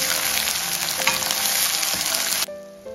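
Chopped onion sizzles loudly in a pan as the base for green hariyali chicken gravy, with a dense crackling fry and stirring scrapes that suddenly drop to a faint hiss near the end.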